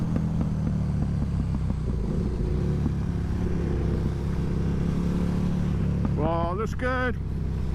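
A KTM motorcycle engine idles steadily nearby, then is revved hard twice near the end in rising, sharp bursts. A person speaks briefly at the start.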